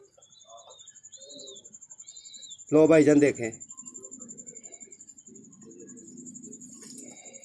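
A handled pigeon gives a brief loud coo midway, amid faint background bird chirps and a steady high whine, while someone speaks quietly nearby.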